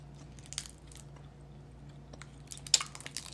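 Close, quiet chewing of a chewy white candy, with soft wet mouth sounds and a few crisper bites growing louder near the end, no talking.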